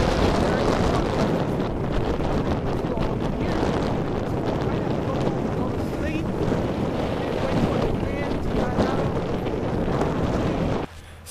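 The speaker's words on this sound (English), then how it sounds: "the wind was whipping so hard that you really couldn't even hear me talk" Strong wind blasting into the microphone during an outdoor walk: heavy, continuous low rumble and roar with gusting swells, loud throughout, voice largely buried, cutting off abruptly at the very end.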